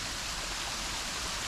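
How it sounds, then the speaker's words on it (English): Waterfall at Shadow Falls Park in Minneapolis, a steady broadband rush of falling water that holds constant and fairly loud throughout, with no speech over it. "Okay, so we got falls, guys."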